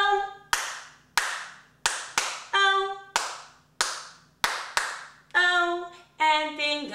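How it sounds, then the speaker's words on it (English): Crisp hand claps keep time in a children's sing-along, bright and close, in groups of four evenly spaced beats alternating with sung tones between them. "Clap one, two, three,"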